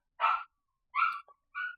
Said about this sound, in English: there's my dog in the background